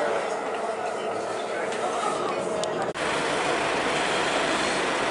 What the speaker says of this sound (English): Yeah, I just managed to get on the train.